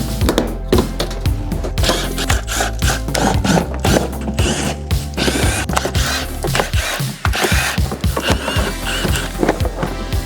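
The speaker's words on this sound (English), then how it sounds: "let's remove the wheel and the wheel arch liner" Hand tools work on a BMW X1 as its wheel and wheel arch liner are taken off, with a close, busy run of metallic clanks, clicks and rattles in irregular bursts and no speech.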